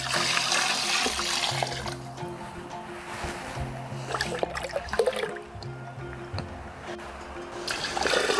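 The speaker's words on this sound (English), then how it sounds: "Finally, I'm going to add 3 parts of water." Water is poured into a fish fertilizer mixture of fish and molasses, a steady splashing and gurgling pour that continues for several seconds with a few surges, heard close and alone.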